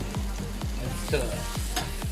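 Chili powder and cayenne pepper being stirred in a hot frying pan, a steady sizzle with a utensil scraping the pan in regular strokes roughly every half second, close and moderately loud, no voices.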